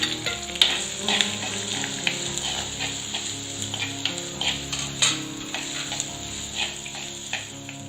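A large onion frying in a pan for a quick South Indian tiffin kulambu side dish, a steady broad sizzle with crackling pops throughout, close and fairly loud with no talking.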